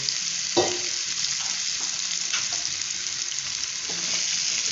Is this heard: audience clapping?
no